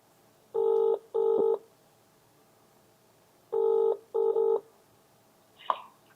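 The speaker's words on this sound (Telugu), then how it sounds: "ఒకసారి ఫోన్ చేద్దాం." Phone keypad tones beep in two quick pairs separated by a pause, followed by a faint click in an otherwise quiet room.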